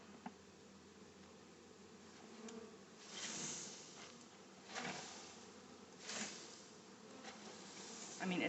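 Honey bees buzzing in large numbers while being shaken into a hive at installation, a steady dense hum with a few louder swells and soft knocks, close by.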